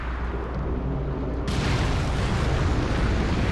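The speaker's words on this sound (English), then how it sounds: "Big explosion!" A big explosion in the video game Kingdom Hearts, a sudden roaring blast that jumps up abruptly and stays as a loud, sustained rumbling burst.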